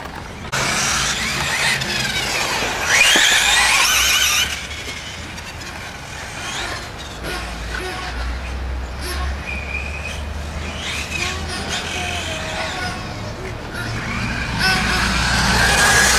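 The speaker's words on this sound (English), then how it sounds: "This is Rodger's truck out here. Rodger's tearing it up." A radio-controlled hobby truck driving around at a hobby shop, a continuous whining, buzzing motor that rises and falls as it races, with faint voices in the background.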